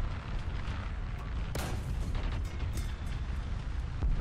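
Tank cannon fire from a KW-7 (U-13) in War Thunder, a sharp blast near the middle and a couple of lighter thuds over constant engine rumble and battlefield din, with no talk.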